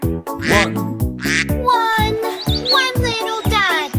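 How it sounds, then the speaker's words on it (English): A children's song about five little ducks, with quacks, melodic cartoon-like vocal calls and chirpy sung tones over a rhythmic, bouncy musical backing. The sound is steady and close throughout. "Mother duck said quack, quack, quack, quack"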